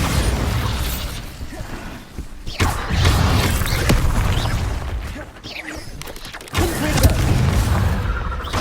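Bombarda blasting spells from the video game Hogwarts Legacy go off in heavy booming bursts, two or three loud impacts spaced a few seconds apart, with mechanical clatter and rumbling debris between them.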